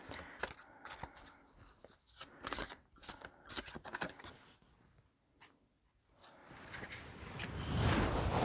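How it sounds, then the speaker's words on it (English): Large tarot cards are shuffled by hand in a quiet room: a series of soft, crisp riffles and slaps in short irregular bursts, then a longer rising rustle toward the end, with no talking. "These bigger cards are a little hard to shuffle."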